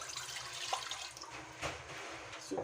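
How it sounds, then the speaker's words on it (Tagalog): About a litre of water is poured from a tap or jug into a cooking pot while preparing a sour fish-head soup. The steady splashing rush stays fairly quiet and continuous, with no talking. "Lagyan natin ng tubig."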